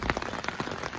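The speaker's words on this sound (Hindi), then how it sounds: "भयंकर तेज बारिश" Very heavy rain pours onto an umbrella in Shimla, a dense, loud, continuous patter of close drops with no talk.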